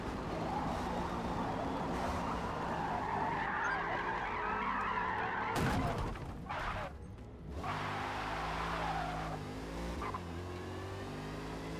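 Race car tires screech and skid under hard braking into a turn in Forza Motorsport, a long continuous squeal over loud engine roar, cut by a brief sharp crunch mid-way before the engine noise resumes.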